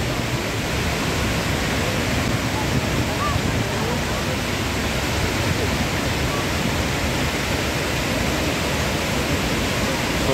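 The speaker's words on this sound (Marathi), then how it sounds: "छोटा धबधबा आहे, उंची कमी आहे," Strong flow of water pours over a small, low waterfall in a scenic natural setting at Thoseghar, producing a loud, steady, broadband rush that continues without a break throughout.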